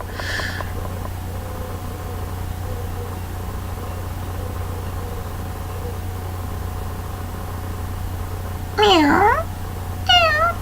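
A person imitates a cat, making a couple of short, rising and falling meows near the end over a low steady hum, with quiet room noise before.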